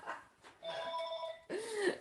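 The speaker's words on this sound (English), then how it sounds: "Let me turn off the phone." A telephone ringing indoors during a law lecture, two short electronic bursts of ringing tone separated by a brief gap, fairly faint and heard alone without talk.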